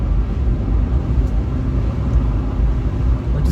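Fiat 500 Hybrid on the road: steady, loud low cabin rumble of engine and tyre noise while driving, continuous and droning with no talking.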